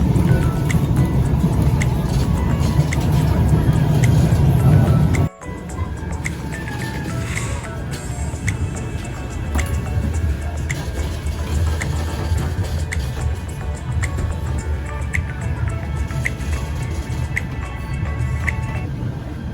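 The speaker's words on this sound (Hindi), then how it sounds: "हम इस वाली ट्राम में बैठ चुके हैं" Riding inside a tram to the Trafford Centre in the United Kingdom: a steady, loud rolling rumble of the carriage fills the scene, briefly cut off by a sharp drop before the constant motion noise resumes.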